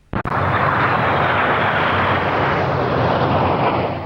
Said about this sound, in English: These are the Hawks, the Red Arrow's latest aeroplane.